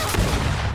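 A single loud, close gunshot blast from the Greedfall video game, a short heavy boom with a brief rumbling tail.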